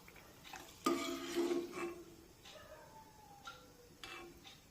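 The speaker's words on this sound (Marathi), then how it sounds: "चाळणीवर चकली काढून घेऊया" Fried rice-flour chakli lifted from hot oil onto a strainer: a soft metallic clatter and scrape of utensils, with faint frying bubbles in the background and a few light clinks afterwards.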